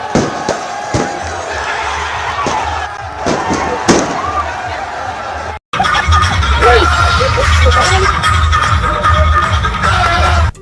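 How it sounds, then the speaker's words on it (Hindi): Firecrackers and fireworks at a street celebration of an Indian cricket team win, with sharp bangs in the first half and dense crackling, crowd noise and voices after a short cut. "पटाखों, आतिशबाजी और ढोल नगाड़ों के थाप पर लोग झूमते नजर आए"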